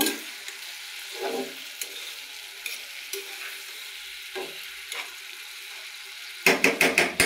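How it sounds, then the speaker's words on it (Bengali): Eggplant and Malabar spinach frying in a pan for a small-fish chorchori, stirred with soft scraping strokes over a faint sizzle, ending in a burst of louder, rapid clattering stirs. "এখন আমি ভালো করে নেড়ে দেব"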